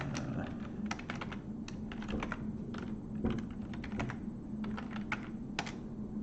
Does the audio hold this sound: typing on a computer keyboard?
yes